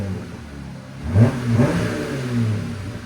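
A Jeep Gladiator's 3.6L V6 with a muffler-delete exhaust revs up close, swelling into a throaty burst, then easing back to a rumbling idle with a smaller second rise.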